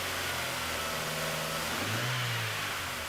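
A MINI Cooper R50 engine idles at moderate distance, then rises and falls through two brief revs, steady and unaccompanied by speech.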